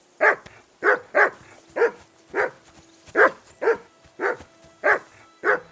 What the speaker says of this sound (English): call off that dog and then we can talk.